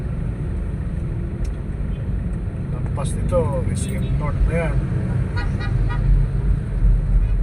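Busy morning traffic on a city avenue near SM North in Manila, engine rumble droning throughout while a couple of short car horn toots sound in the middle, with people talking over the street noise.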